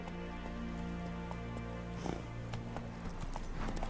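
Horse hooves clip-clopping in The Witcher, a steady walking rhythm of hoof beats on the ground under a sustained musical drone, with a few louder steps standing out midway.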